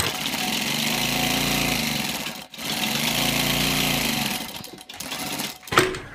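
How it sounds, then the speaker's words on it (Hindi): Sewing machine running fast stitches along the edge of a kurta, a loud steady mechanical whir in two long runs broken by a short pause, then stopping with a few clicks at the end. "तो अब हम क्या करेंगे, कुर्ते पर किनार की सिलाई चलाएंगे बिल्कुल।"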